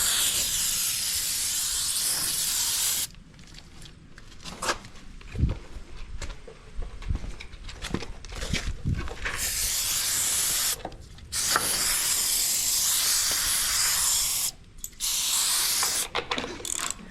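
A pressure washer spray hisses against the metal of an old silage cart on a dairy farm. The loud, broadband blast runs in long bursts, broken by short pauses and scraping, clattering knocks.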